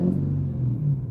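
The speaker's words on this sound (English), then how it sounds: "He's sitting in this giant truck just revving his engine for no reason whatsoever." Giant pickup truck engine revving, a deep low rumble that swells and holds for a second at moderate distance, with no talk.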